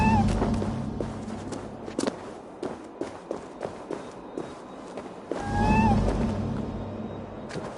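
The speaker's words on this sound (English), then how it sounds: "Who put you up here, little cat?" A cat meows briefly in the video game Assassin's Creed Valhalla, once near the start and again later, over steady in-game footsteps and a low ambient rumble.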